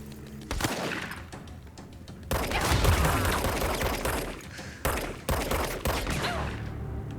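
Gunshots in the action game Control, repeated loud bursts of weapon fire with rumbling impacts and brief pauses between volleys, close and dense, with no talk over them.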